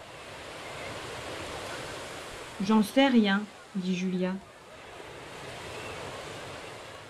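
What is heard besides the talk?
ocean waves at the beach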